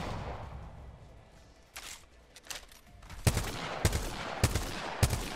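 Gunfire from a double-tap weapon in Apex Legends, heard as several sharp, loud shots in quick pairs and singles over the second half, after some quieter in-game rattling and movement.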